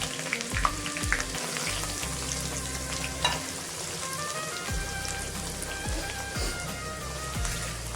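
Chopped onion, garlic and cumin seeds sizzle steadily in hot oil in a kadhai, a continuous close crackle with occasional spoon stirs and scrapes and no talking.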